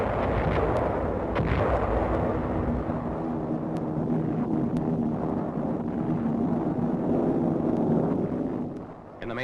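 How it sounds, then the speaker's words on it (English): Heavy naval bombardment from destroyers and cruisers joining an air attack during a Pacific War battle, heard as continuous loud booming and rumbling gunfire with no pause. "the destroyers and cruisers move in to join the air attack with a heavy bombardment"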